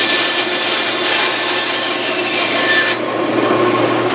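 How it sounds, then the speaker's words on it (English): A bandsaw cutting a guitar bridge saddle to length, a steady loud close whirring rasp of the blade through the saddle that eases slightly near the end, no speech. "Nip it off on the bandsaw."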